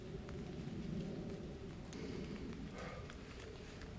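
Steady rain falls in a forest at night during heavy weather, a constant soft hiss with occasional louder drops close by.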